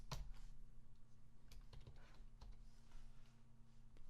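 Quiet, close computer keyboard typing while entering code for a Unity C# project: short bursts of light keystrokes over a faint steady hum, with no voices.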